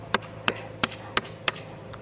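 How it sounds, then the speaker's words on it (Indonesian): A hammer taps five times at an even pace, driving roof tile shards into a planting hole; the short, sharp knocks are fairly close but quiet. "ketok-ketok sama palu gitu teman-teman, biar dia kenceng gitu"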